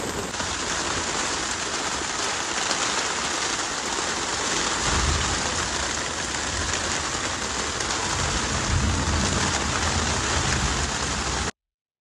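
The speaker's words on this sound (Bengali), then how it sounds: "প্রচুর বৃষ্টি হচ্ছে বাইরে।" Heavy rain pours steadily outside a small fishing boat sheltering in a canal, a dense, continuous close hiss of drops on surfaces and water with no voices.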